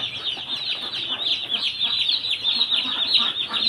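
Dense, continuous high-pitched cheeping from a crowd of chicken chicks, close and steady throughout, with no talking.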